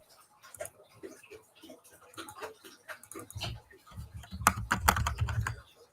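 Computer keyboard typed on while naming an object in a 3D software outliner: a stream of quick, close key clicks, getting louder and denser toward the end over a low thumping rumble.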